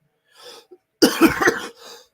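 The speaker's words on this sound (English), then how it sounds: "apologize for the cough" A soft breath, then one loud, harsh cough close up, followed by a smaller trailing cough.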